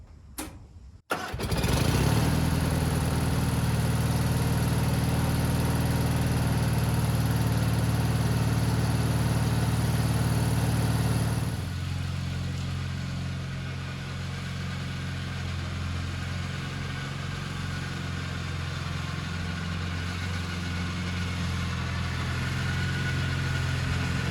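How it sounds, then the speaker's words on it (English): A Gravely lawn tractor's Kohler M18 engine, with a replaced flywheel fan blade, cranks and catches, roaring loudly for several seconds before settling into a steady, lower idle that runs on. "we are going to start our engine"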